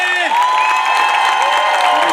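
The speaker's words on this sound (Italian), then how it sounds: "Un applauso a tutti quanti voi" Audience at an outdoor charity event in Salzano cheering and clapping, a loud crowd burst with whoops and shouts over a sustained whistle-like tone, brief and close.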